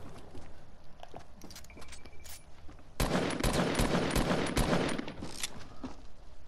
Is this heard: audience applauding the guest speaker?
no